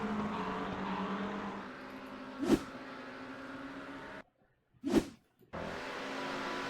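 Porsche GT3 race car in a racing video game at Spa, engine drone holding steady before two quick roaring pass-bys, the second after a brief cut to silence, then the engine note resumes.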